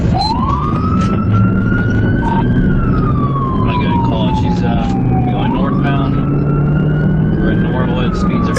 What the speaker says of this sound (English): the officer activated his lights and siren